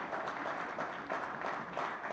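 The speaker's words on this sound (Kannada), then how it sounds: "ಒಂದು ದೊಡ್ಡ ಚಪ್ಪಾಳೆ ಅವರಿಗೆ" Audience applause at a cricket-related stage event, a faint, steady patter of many hands clapping from across the room, continuing evenly throughout.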